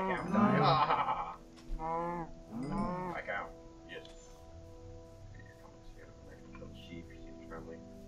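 Sheep bleat in Minecraft's swamp biome, with three wavering bleats close together in the opening seconds, then quieter game ambience with faint distant animal sounds.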